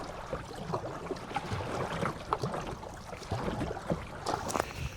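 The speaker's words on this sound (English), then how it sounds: "I ended up just buying a kayak, and I'm about to paddle out there" Kayak paddling on open water near a small island, with soft splashes and dripping strokes repeating irregularly over a steady wash of water and light wind, fairly close and moderately quiet.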